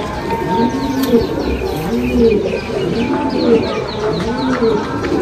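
Golden Kamagar pigeons cooing in repeated rolling calls, loud and close, overlapping one another in a continuous throaty chorus, with faint background murmur.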